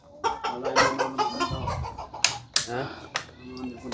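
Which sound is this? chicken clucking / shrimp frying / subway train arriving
chicken clucking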